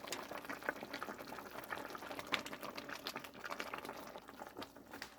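Braised aged kimchi with young radish simmering in a pot of anchovy broth over medium-high gas heat, a soft, continuous bubbling and popping, close and faint, with no voices.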